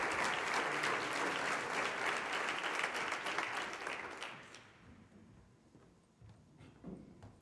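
Audience applause at a community event for a youth project, dense clapping that fades out after about four seconds, leaving a quiet room with a few scattered claps.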